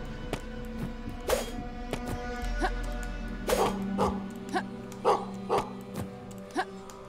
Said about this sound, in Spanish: ¿Y ese perro?